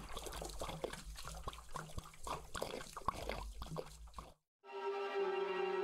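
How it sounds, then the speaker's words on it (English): In the video game Project Kat, a flower sinks into water with a few seconds of bubbling, sloshing liquid noise. After a brief silence comes a sustained, bright musical chime. "The flower sank into the water."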